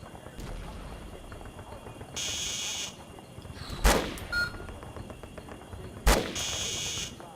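Gunfire in a Vietnam War video game: a few sharp shots and bursts over steady in-game ambience, close and fairly loud against a low background.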